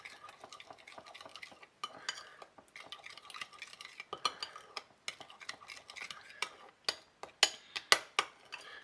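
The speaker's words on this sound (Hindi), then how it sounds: "और अब हम इसे मिक्स करके एक सॉस तैयार कर लेते हैं" A spoon stirs sugar and other ingredients into a sauce for restaurant-style chilli chicken, making close, irregular clinks and scrapes against the bowl, with louder sharp taps near the end.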